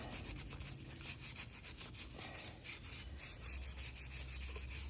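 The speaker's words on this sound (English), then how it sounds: "So I'm gonna give this a scrub right here." Steady rasping scrub on a rusty Ford 302 cylinder head after a vinegar soak, continuous rhythmic rubbing strokes close up with no talk.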